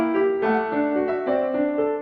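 Piano accompaniment plays sustained chords together with a melody line, the notes changing every half second or so in a clear, close, moderately loud texture with no talking.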